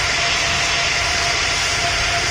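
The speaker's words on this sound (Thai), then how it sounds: "นั้นก็ถือว่าเครื่องบินนั้นออกไปแล้วนะ" A departing fixed-wing airplane gives off a loud continuous roar of jet engine noise, broad and steady, with no talking over it.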